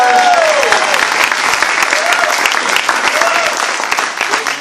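Loud, close applause from a crowd at a political rally for Cuomo and Klein in Riverdale, a thick continuous clatter of hands with cheering voices audible over it near the start.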